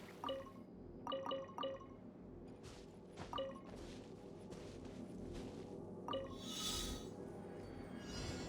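Water in the Genshin Impact video game drips and gurgles with glassy clinks and plinks in irregular bursts, mid-level over a steady soft background bed.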